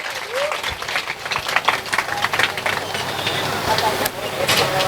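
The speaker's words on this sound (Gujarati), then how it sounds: "આપણે જો ફરીને એકવાર જોરદાર તાળીઓથી આપણે એમને પ્રોત્સાહિત કરીશું" A crowd applauds young girls after their performance at the inauguration of a Mother Mary church in Nar village, with dense, sustained clapping filling the space and a voice heard over it.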